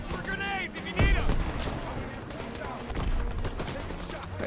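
Rapid gunfire rings out in a Call of Duty: WWII campaign battle, with repeated sharp shots and a heavy blast rolling over continuous combat noise while soldiers shout beneath the din.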